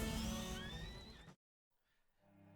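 A horse whinnies loudly in the video game A Plague Tale: Innocence, a rising and falling cry over dense game sound that cuts to silence, followed by a faint low hum.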